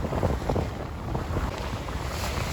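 A sailboat cruises at sea between East Tarbet Bay and Whitehaven, with wind roaring steadily across the microphone and water rushing and splashing along the hull, a continuous close, dense wash with no voices.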